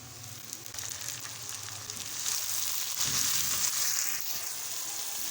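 Chopped onions and finely cut tomatoes with green chilies sizzle and crackle in a hot pan, a steady fry that swells slightly louder midway with occasional stirring.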